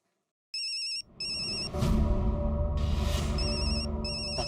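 A telephone rings in repeated electronic bursts, two short rings followed by further rings as heavy low background noise rises, loud and close in a domestic scene.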